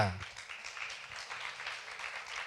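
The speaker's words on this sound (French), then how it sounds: "On peut les applaudir." A church congregation gives a short burst of applause, a soft, dense patter of clapping heard from within the room for a couple of seconds.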